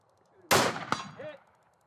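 A single rifle shot fired at a target in Austin, Texas, one sharp loud crack with a brief metallic ring and a short fading echo in otherwise quiet surroundings.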